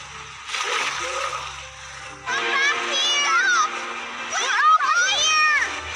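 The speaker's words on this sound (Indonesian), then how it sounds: "semua makanan jatuh ke laut bersama anak-anak mereka yang saat itu sedang bersembunyi" A food container drops into the sea in an animated film, bringing a loud watery splash and splatter mixed with bright, chirpy cartoon voices and sound effects rather than a clean, isolated splash.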